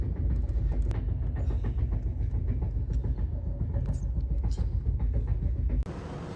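An AC passenger train rolls along in India, heard from inside a coach as a loud steady rumble with rhythmic clicks and clanks, then the noise drops abruptly near the end as it settles toward a stop.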